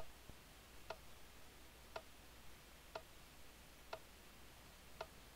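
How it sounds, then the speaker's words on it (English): A clock or lever ticks in a Minecraft FTB server, five faint, evenly spaced ticks about one second apart over low background hiss. "Sounds like a clock or a lever of some sort."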